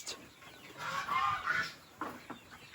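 Turkeys on a farm clucking and scratching at the ground, a few soft throaty clucks and rustles, faint and brief with no talk.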